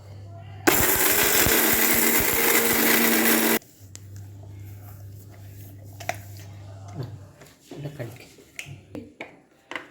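A mixer grinder roars loudly for about three seconds while grinding roasted fenugreek, then stops; a steady low hum and scattered clicks and knocks follow.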